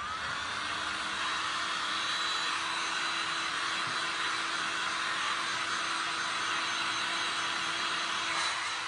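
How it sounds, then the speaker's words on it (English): A hair dryer blows steadily over resin art, a constant loud whooshing roar that holds without change throughout, with no voices. "I'm gonna hit that for a millisecond with the dryer."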